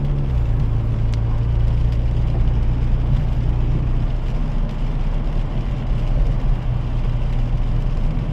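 A car drives along a road covered in slush, giving a steady, loud low rumble of engine and tyres with a constant wet road hiss. It goes on unbroken and no one speaks.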